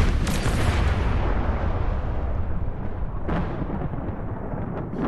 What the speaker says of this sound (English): the flames brutally split the carriage with a deafening roar